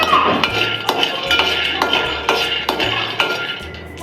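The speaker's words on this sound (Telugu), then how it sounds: "పల్లీలు వేగిపోయాయి" Peanuts are dry-roasted in a pot on a stove, and a utensil stirs them in a steady rhythm of metallic clinks and scrapes, close and fairly loud, with no talking.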